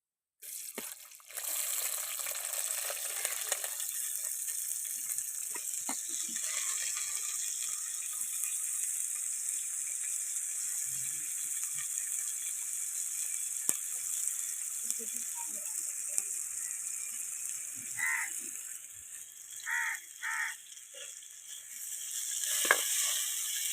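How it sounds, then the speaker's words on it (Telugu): Onions, curry leaves and green chillies fry in hot oil in a clay pot, giving a steady, fairly loud hiss and crackle that runs nearly the whole time, with occasional spoon scrapes and clinks toward the end. "ఆయిల్ అయితే కాగిందండి. దాన్ని ఉల్లిపాయలు కరివేపాకు పచ్చిమిర్చి అయితే వేసుకుంటున్నాను ఫస్ట్."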